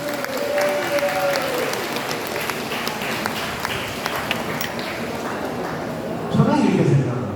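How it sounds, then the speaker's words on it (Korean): An audience applauds at a gathering in honor of a pastor: steady, dense clapping runs the whole clip with a voice speaking over it, swelling a little louder near the end. "우리 전광훈 목사님 건강하시라고 박수 한번 해주시고요."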